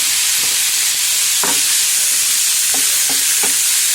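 Turmeric powder being stirred into potato masala for bonda in a pan gives a steady bright sizzle under a few sharp scraping strokes of the spoon against the metal, loud and close with no one talking.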